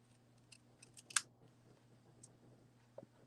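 Scissors snip through paper in a few quick, quiet cuts, with one sharper snip standing out against near silence.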